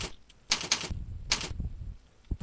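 Keys on a computer keyboard are tapped in a few short, close bursts, with brief pauses between the clusters and no talking.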